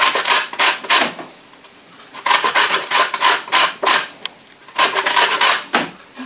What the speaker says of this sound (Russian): Мы его натираем на мелкой терке.